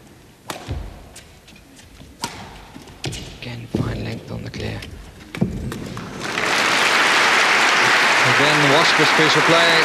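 A crowd at a 1979 Friend Provident Masters badminton match between Prakash Padukone and Morten Frost breaks into loud sustained applause after several seconds of thuds and a commentator speaking.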